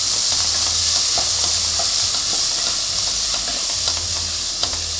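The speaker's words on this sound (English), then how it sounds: "So I'm going to add in 3 tomatoes in this. Make sure you fry them." Tomatoes frying in a pan for a dum-style chicken keema biryani, a steady close sizzle and hiss with stirring scrapes and occasional light clatters throughout, no talking.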